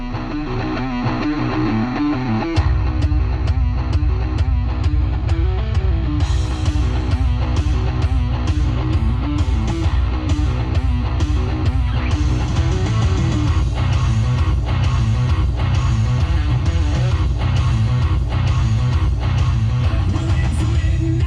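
Music blasting from the factory Fender stereo in a 2022 Nissan Frontier pickup with the subwoofer off, loud and continuous with a driving beat throughout, no talking over it.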